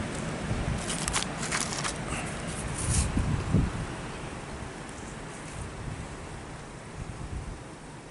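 Strong wind blows steadily outdoors at an amateur archaeology dig site, a constant rushing roar buffeting the microphone, with a brief gustier swell in the middle and no clear talk.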